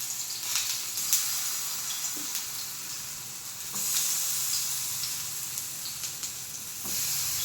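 Oil sizzles steadily in a pan while eggplant fries for an Andhra-style eggplant fry, a continuous close hiss broken by a few light scraping and tapping sounds.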